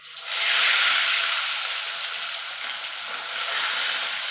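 Tilapia pieces dropped into hot oil set off a loud, steady sizzling hiss that swells within the first half second and holds strong and close throughout, with no voices.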